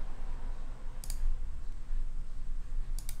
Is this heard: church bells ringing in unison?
no